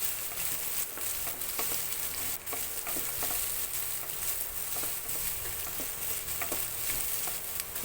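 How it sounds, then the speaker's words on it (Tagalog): Tilapia and onion sautéing in a pan, a dense continuous sizzle with scattered crackles and pops and light stirring throughout, close and steady. "Saute lang natin siya ng ilang minuto. Sunod na rin natin ang sibuyas."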